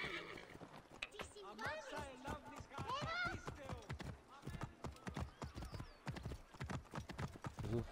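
Horse hooves clip-clopping in the video game Assassin's Creed Origins, a rapid irregular run of hoofbeats with whinnies and neighs, faint and under someone talking.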